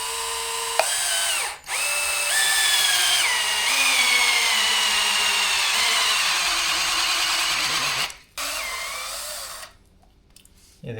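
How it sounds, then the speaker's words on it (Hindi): A power drill bores into rubber for a car seat or floor modification, a loud sustained whirring grind with pitch shifts as the bit labors, briefly stopping around the second mark and cutting off near the end. "इसे बस ड्रिल तो मैं थोड़ा सी करूँगा"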